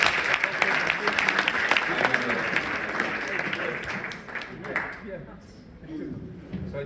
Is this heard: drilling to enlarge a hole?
no